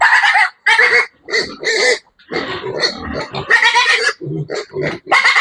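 35-day-old piglets squeal loudly and repeatedly while being dewormed on a farm, in piercing bursts that come one after another, with grunts and a voice mixed in at close range.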